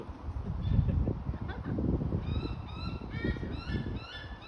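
A crow calls at a golden eagle, giving a run of harsh, repeated calls in the second half over a steady rustling outdoor background.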